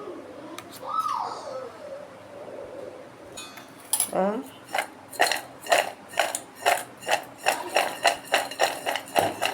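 Powdered sugar tipped onto dry gooseberries in a pan, with an early rustle and a sliding pour, then a steady run of close, rhythmic clinks and scrapes of a utensil against the pan.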